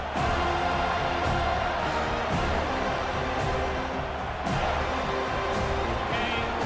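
Home crowd at a college football game roaring steadily as the defense tries to get off the field on third down. The noise is loud and continuous, with a few sharper swells.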